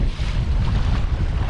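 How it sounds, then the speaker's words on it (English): Gusty wind blowing over Broken Bow Lake during kayak fishing, a continuous low rushing roar that buffets the microphone, loud and unbroken with no talking. "Wind's getting up a little bit."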